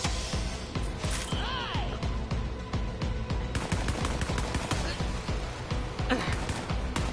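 Rapid gunfire bursts from the Borderlands 3 video game crack in dense, repeated volleys over game music and effects, with a voice talking through the action.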